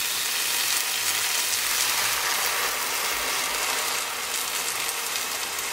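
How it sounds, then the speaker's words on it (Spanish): Coconut milk hits a hot pan holding rice, mushrooms and beans, giving a steady close sizzle and hiss that carries on for several seconds without talk. "Y ahora voy a echar la leche de coco."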